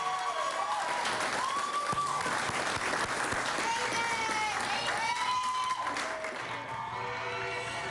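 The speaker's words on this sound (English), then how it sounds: "Let's give a big round of applause to the men and women of law enforcement who have done a great job." A crowd in Dannemora claps for law enforcement officers in continuous outdoor applause, with scattered voices and a few whistles over the steady patter.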